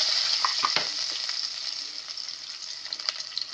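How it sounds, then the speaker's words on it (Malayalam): Dry red chillies and curry leaves fry in hot oil with popping mustard seeds, a steady close sizzle with scattered crackles and a few utensil scrapes, no talking. "കടുക് പൊട്ടി വരുമ്പോഴത്തേക്ക് നമ്മളതിനകത്ത് വറ്റൽമുളക്, കറിവേപ്പില ഇതങ്ങോട്ട് ഇട്ട് കൊടുക്കണം."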